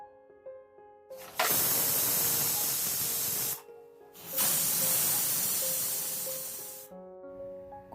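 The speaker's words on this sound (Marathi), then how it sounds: "कुकरचं झाकण बंद करून मीडियम फ्लेमवर फक्त दोन शिट्ट्या होऊ द्यायच्या आहेत" Loud, forceful hissing of escaping steam from a pressure cooker on medium flame, cooking vegetable pulao, comes in two long blasts separated by a brief pause, with faint tonal kitchen sounds between and after.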